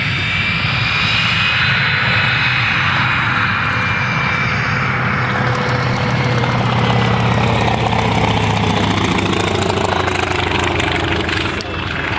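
A World War II Wildcat fighter's piston engine drones steadily and loudly at an air show, a continuous roar with shifting pitch and no break across the whole stretch.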